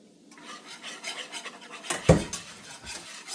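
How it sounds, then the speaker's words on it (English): Flour being stirred into gravy in a pan, a steady rhythmic scraping of a utensil across the pan with one louder clank partway through, close and clear with no talking. "Pouring a little bit of flour and stirring."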